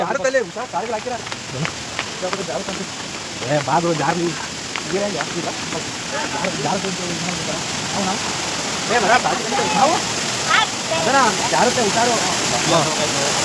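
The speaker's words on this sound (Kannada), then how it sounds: "ಅಬ್ಬಿ ಜಲಪಾತ ಅಂತ." Abbi waterfall in Karnataka produces a constant broad rushing roar of falling water that runs steadily throughout, while someone talks loudly close by over it.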